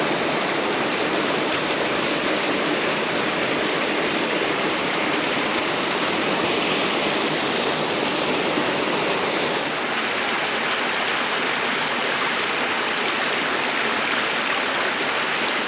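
Steady, full rush of flowing creek water near Payson, Arizona, close and constant for the whole stretch, with no voices or other sounds breaking through.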